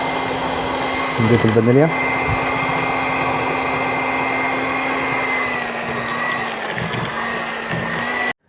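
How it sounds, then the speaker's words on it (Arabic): Electric hand mixer beating eggs, butter and vanilla for Eid cookies, a steady close whir droning throughout while a voice speaks briefly over it. "كده خلاص مهمة المضرب خلصت"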